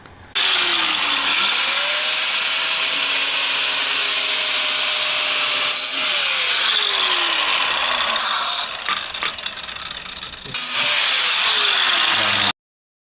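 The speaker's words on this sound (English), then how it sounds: "So we're just trying to cut a little bit of the bumper because it didn't look so good together." A power cutting tool slices into the car bumper of a BMW 335i for fender flares, a loud, close, continuous high whine whose pitch sags and rises under load, pausing briefly before resuming.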